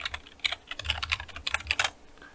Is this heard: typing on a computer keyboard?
yes